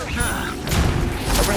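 The Confringo fire spell bursts in Hogwarts Legacy as a string of booming blasts and thuds, with game voices talking over the explosions.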